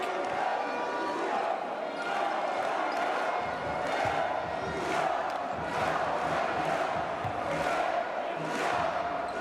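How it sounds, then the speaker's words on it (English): A basketball arena crowd at a EuroBasket qualifier between Bulgaria and Germany roars and cheers continuously, with rhythmic chanting swells and a commentator's voice faintly under the din. "The crowd are lifting the team back up again."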